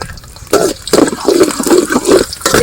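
Garlic frying in oil in a wok while a Burmese-style street-food egg dish is being prepared: a loud, steady crackling sizzle that swells in repeated bursts, with no voices.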